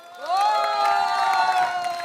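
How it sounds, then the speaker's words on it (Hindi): A studio audience at a comedy game show breaks into cheering and applause, a loud sustained swell of voices and whoops with clapping that rises quickly and holds for about two seconds. "बजाओ तालियां"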